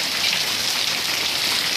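Steady rain falling hard, a dense even hiss of drops on surfaces, close and constant for the whole stretch, with no voices.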